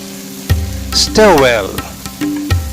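Green chili and ginger paste with asafoetida being stirred in a hot pan, a steady sizzle and frying hiss with scraping stir sounds, while a person talks over it.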